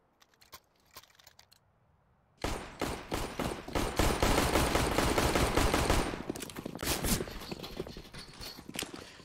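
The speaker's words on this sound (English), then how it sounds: "Tap, tap, tap. Go the pistols." Rapid pistol shots tapped off in Counter-Strike on the Nuke map during a competitive match, a dense burst of sharp cracks after a quiet start, then scattered shots trailing off.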